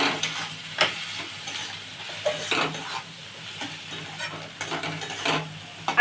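Tomato cooking in a pan with Kashmiri chili powder, turmeric and salt, giving a low continuous sizzle broken by repeated scraping and stirring strokes of a utensil against the pan, close and moderately loud, with no talk.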